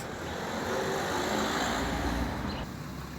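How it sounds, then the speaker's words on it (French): City-centre traffic passes outside a church, with cars and heavier vehicles producing a steady moderate roar of road noise that swells slightly in the middle and eases near the end. "Le bruit des voitures."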